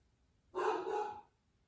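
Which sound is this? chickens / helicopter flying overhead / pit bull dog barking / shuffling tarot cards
pit bull dog barking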